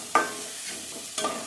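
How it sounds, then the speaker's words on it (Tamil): Tomatoes sauté in oil over low heat, a soft sizzle broken by two quick scraping stirs, one at the start and one near the end, with no voices. "தக்காளியை சேர்த்து விட்டுட்டு நல்லா வதக்கிடலாம்."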